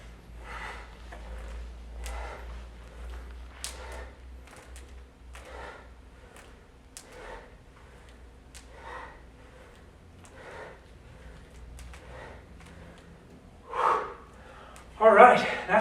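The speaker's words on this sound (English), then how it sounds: "I'm timing my breathing with the reps" Rhythmic heavy breathing during exercise reps during a runner's circuit, audible inhales and exhales repeating about every second and a half at close range, growing louder and more strained toward the end.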